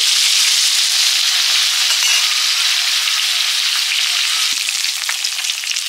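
Snakehead (shol) fish pieces fry in hot oil, a loud, dense, continuous sizzle close up, steady throughout with a brief small knock near the end and no voices.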